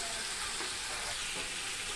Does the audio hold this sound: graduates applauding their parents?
no